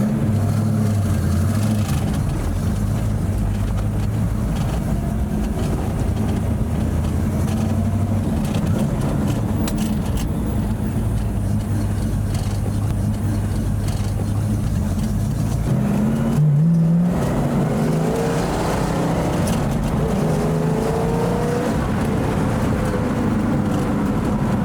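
A 1970 Pontiac GTO Judge cruises gently, its engine giving a steady, close, low rumbling drone from inside the car, with a brief shift in pitch near the end.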